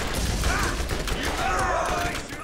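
Rapid gunfire in the Borderlands shooter game, a dense burst of overlapping shots and impacts that runs the whole short stretch at a constant loud level.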